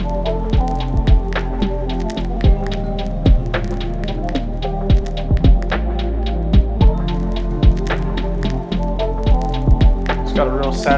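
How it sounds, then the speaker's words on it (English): Saturated bass instrument in an R&B beat, a steady low, warm bass line pulsing under sharp, regular percussive hits in a looping groove. "It's got a real saturated bass in there, so it's not too heavy."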